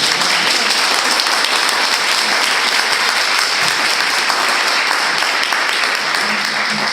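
Sustained, dense applause from an audience after an academic talk, even and full clapping that holds steady from start to finish, fairly close and loud.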